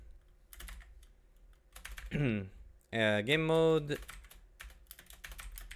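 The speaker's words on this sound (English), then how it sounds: "I'm really bad at typing this" Someone types on a computer keyboard while playing the game New World. Soft, quick key clicks come in scattered bursts, and a voice speaks briefly over them.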